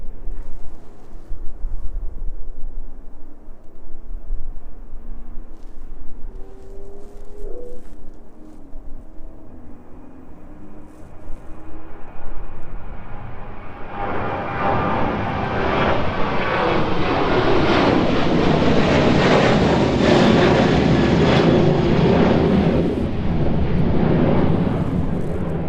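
A passenger jet bound for Palma departs the runway at East Midlands Airport on an evening, its engine roar swelling from quiet background to a loud, broad, sustained rumble as it climbs away, with no talk.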